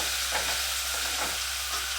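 Tomatoes fry in a hot pan with a steady, bright sizzle, while a spoon stirs them in a few soft scraping strokes, close up with no talking.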